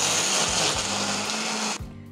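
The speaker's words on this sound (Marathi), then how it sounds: "आणि हे छान मिक्सरमध्ये फिरवून घेऊयात." A kitchen mixer grinds garlic cloves, dried grated coconut, tomatoes and coriander into a paste, giving a loud, steady whirring roar that cuts off abruptly near the end.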